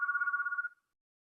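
A telephone rings once at the back of a lecture room, a steady electronic trill lasting under a second before cutting off into silence, faint and alone.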